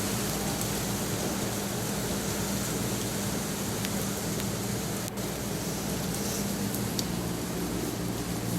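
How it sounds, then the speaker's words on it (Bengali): Light drizzle falls under an open sky, a faint, even hiss that holds steady from start to finish, with only an occasional tiny tick. "খুব জোরে বৃষ্টি হচ্ছে না"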